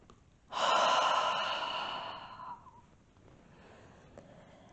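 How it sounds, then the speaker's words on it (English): One deep, audible exhale through the mouth closes a yoga breathing practice, a loud breathy whoosh lasting about two seconds that gradually fades into quiet room tone. "We will finish with a big breath out of the mouth together."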